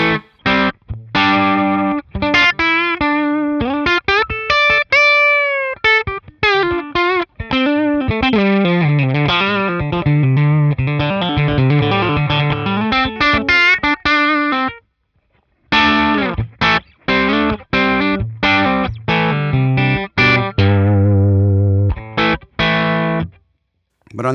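Electric guitar on the bridge pickup through a Revv Generator amp with slight breakup. It plays a melodic phrase of picked single notes and bends with sustained ringing tones, pauses briefly, then resumes with quick notes.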